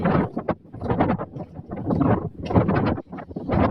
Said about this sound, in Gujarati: કારણ કે ઉનાળો છે એટલે પવન બહુ છે